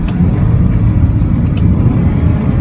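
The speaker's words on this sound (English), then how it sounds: "Now this car does sound pretty good, honestly, for an inline 4." Steady engine drone from a 2014 Mercedes-Benz CLA250 inline-four, with a low, rumbling exhaust note holding fairly even throughout, loud and close, with no talking.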